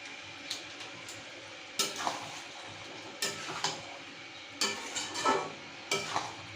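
Egg korma in a pan gently stirred after garam masala is sprinkled in, giving a low background sizzle with a handful of soft spoon scrapes and light clatters at irregular intervals.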